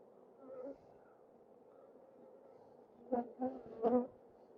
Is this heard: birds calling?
no